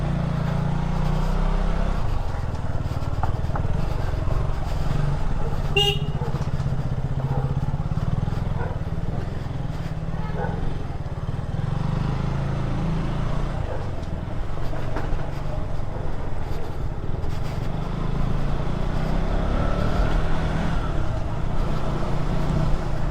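A motorcycle rides along a road toward Dupcheshwor temple in Nepal, its engine droning steadily up close with wind and road noise throughout.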